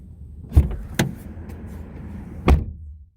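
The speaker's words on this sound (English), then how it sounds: "You close it and it's solid and you're done." Car doors on a 2010 Honda Accord LX sedan closing, giving a few solid thumps spread over a few seconds against quiet interior background noise, close by.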